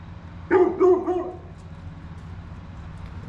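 A dog barks three times in quick succession at 0.5 to 1.3 s, moderately close, over steady low shop hum in a garage where a 1940 Ford truck is being worked on.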